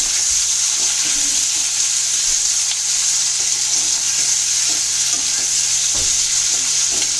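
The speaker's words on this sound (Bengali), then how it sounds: "এবার এটা একটু সটে করে নেব, হালকা করে এটাকে একটু ফ্রাই করে দেব।" Green chillies sauté in hot oil with a loud, constant sizzle close by, broken now and then by light scraping and sputtering pops.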